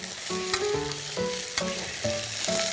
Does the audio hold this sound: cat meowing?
no